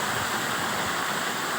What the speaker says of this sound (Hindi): बड़ी तगड़ी आबशार। तो बेहतरीन नज़ारा इस आबशार ना, और शोर के साथ कितना शोर है जनाब पानी ना